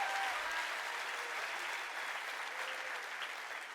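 A church congregation applauds during a sermon, a steady, dense wash of many clapping hands that holds at an even, fairly loud level throughout with no talk over it.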